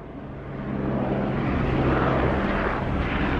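A helicopter's roar swells overhead, a broad rushing engine noise rising in loudness and holding steady, with no talking.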